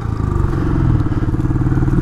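A Royal Enfield Classic 500 single-cylinder engine labours up a steep mountain gradient, a loud, close, steady low thumping pulse with mechanical clatter and no voices.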